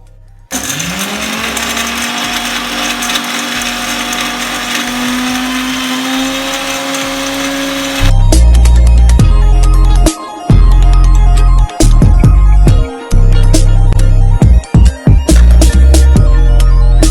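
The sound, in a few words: mixer grinder grinding biscuits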